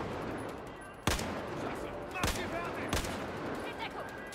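Gunfire in Battlefield 4, three sharp loud shots spaced about a second apart over a busy background of game ambience.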